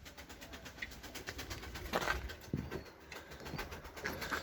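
Pigeons coo softly inside a large portable pigeon coop, low murmuring calls against steady background hum, with no one talking.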